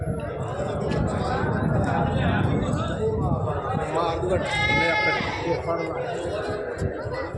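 Goats bleating amid a crowded livestock market, with several wavering bleats rising out of dense crowd chatter and nearby talking throughout.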